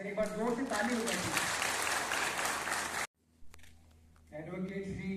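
An audience in an auditorium at an Army legal awareness and medical camp in Poonch claps loudly for about three seconds. The clapping stops abruptly, a quiet gap follows, then a voice begins speaking.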